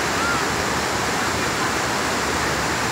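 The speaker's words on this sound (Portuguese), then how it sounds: "Muita água descendo." Water rushes over the spillway of the Açude Paulo Sarasate reservoir dam, a steady, loud, unbroken roar of overflowing water with no pauses or distinct events.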